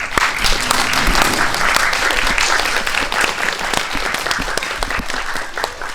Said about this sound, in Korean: 입장하실 때 큰 박수 부탁드릴게요.